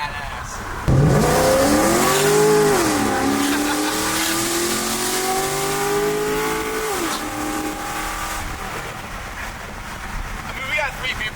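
Cammed police car with straight pipes, loud and close, revving up and holding a rough, lopey engine note for several seconds before easing off, with people talking over it.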